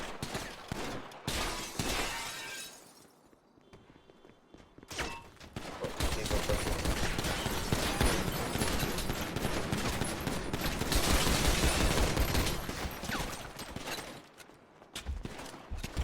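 Bursts of rapid gunfire from a shooter video game firefight, loud dense volleys that stop briefly and then roar on almost without pause, with a voice speaking faintly under the shots.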